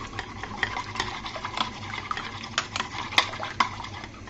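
Pitha batter made with wheat flour and baking powder is beaten in a bowl, making a steady run of soft clicking spoon-against-bowl taps and wet slaps at a brisk, uneven rhythm, close by with no talking.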